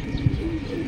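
Pigeons cooing softly while feeding, a brief low coo close by over faint background ambience.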